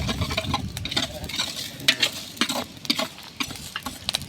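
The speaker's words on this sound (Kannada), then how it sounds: "ಮೆಂತಿ, ಕಸ್ಕಸಿ, ಈಗ ಹವೀಜ ಚೆನ್ನಾಗಿ ಹುರ್ಕೋಬೇಕು." Whole spices such as fenugreek and poppy seeds dry roasting in a pan, stirred with rapid scraping and light crackling taps, close and continuous with no talk.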